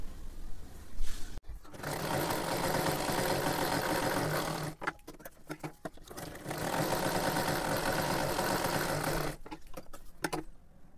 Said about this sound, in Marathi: आता इथे शिलाई मारून घ्यायची आहे।